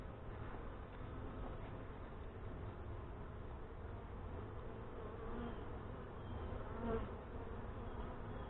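Honey bees buzz steadily at an open hive during a fall feeding and inspection in northwest Wisconsin, a dense, close, continuous drone with no talk.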